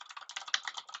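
Fingers type quickly on a computer keyboard, a short close burst of light, rapid key clicks with no voices.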